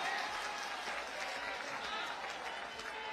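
Dense, sustained applause from a large crowd at a Samajwadi Party political rally greets a speaker arriving on stage, a loud continuous clatter of many hands filling the whole stretch.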